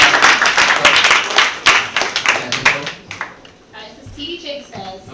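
Audience clapping at a youth empowerment homecoming show, a burst of loud, dense claps close by that thins out and fades into quieter scattered sounds after a few seconds.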